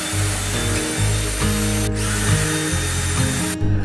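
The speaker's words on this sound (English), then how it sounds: "I'm using a 3/32 drill bit, just as a pilot hole for the screws to go in." Power drill with a 3/32 bit boring pilot holes in wood for a Viking camp chair, a loud, steady whirring drone with brief dips in pitch as the bit bites, close up and without talk.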